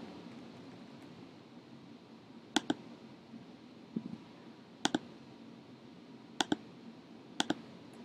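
Computer mouse clicks come in quick pairs every couple of seconds, crisp and close over a faint steady room hum.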